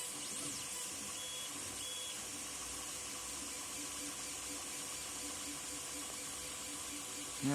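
A modded Ender 3 Pro 3D printer at work, its stepper motors whirring and whining steadily in quiet pitch-shifting tones, faint and continuous throughout with no talking.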